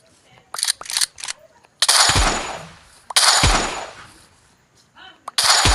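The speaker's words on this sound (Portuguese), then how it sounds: "É o tiro de areia." Sand shot weapon from the Reliquary Reincarnations addon in Minecraft Bedrock firing in several sharp, loud blasts, each with a decaying hiss, mixed with quick clicks and a voice talking between shots.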